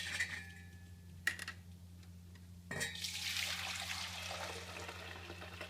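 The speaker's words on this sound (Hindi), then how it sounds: "अब हम इसका पानी निकाल देते हैं।" Water drains from a container of wheat grains soaked for three days, starting as a brief trickle and then turning into a steady, rushing pour that continues to the end, with faint clinks.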